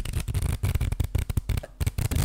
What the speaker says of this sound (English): Here, let me shuffle up so you can play.